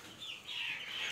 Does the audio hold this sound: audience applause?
no